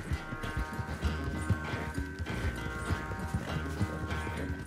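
A horse's hooves clip-clop at a steady running pace through Red Dead Redemption II, with brief snorts or whinnies over a dense layer of game music and ambience.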